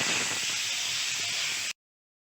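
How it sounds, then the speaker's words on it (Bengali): Soaked chickpeas hitting hot oil and spices in a pan, giving a loud, steady close hiss of frying that runs evenly and then cuts off abruptly. "এবার আরেকটু ভালো করে আমি ভেজে নিচ্ছি। এবার 1 মুঠো ভেজানো ছোলা আমি দিয়ে দিলাম।"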